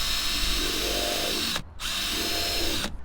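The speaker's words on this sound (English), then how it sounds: "When drilling into a bumper, you're going to want to have stability" Power drill boring holes into a car bumper, two long continuous whining runs of the motor separated by a short stop, loud and close.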